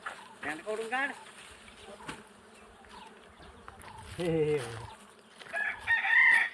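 Buzzing of wild honeybees around a honeycomb in Konkan, Ratnagiri, rises and falls close by, with brief bursts of nearby chatter and a rooster crowing at the end.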